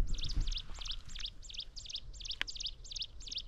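Small birds chirping on a misty hilltop at Vanjangi near Vizag, a rapid run of about a dozen bright, evenly spaced twittering calls, clear and fairly close over a low outdoor rumble.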